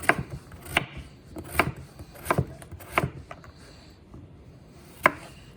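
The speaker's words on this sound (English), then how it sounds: "you cut it in half, but this time you're gonna just go in little chunks like this" A knife chops a potato into small chunks on a cutting board for a Cajun potato stew, with sharp, separate cuts falling in an uneven rhythm and one last chop after a short pause.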